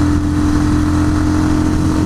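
A motorcycle with a sidecar engine drones loud and close, a steady mid-pitched hum with a strong tone, running at speed around 80 rather than clearly revving.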